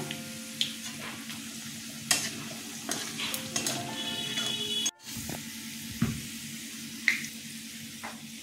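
Whole cinnamon, green cardamom and cloves sizzle in hot oil for a Katla fish curry, a steady crackling hiss with occasional clinks and stirring knocks from the pan, close and clear.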